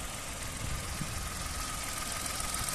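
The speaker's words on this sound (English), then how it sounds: "engine sound very nice and smooth" A Kia Picanto 1.0 petrol hatchback idles with a steady, smooth low hum and faint mechanical ticking, close up and continuous with no talking.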